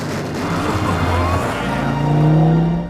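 A Volvo EX60 car drives a lap, its rising hum swelling and growing louder as it accelerates close by.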